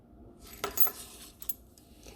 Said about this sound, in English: if you do put keys on what the keychain is going to look like with keys on it